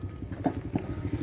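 Cow hooves clop on hard ground in a quick, uneven rhythm, close by, as the cow walks.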